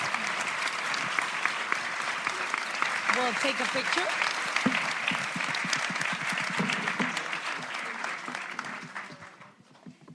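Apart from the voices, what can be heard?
conference audience applauding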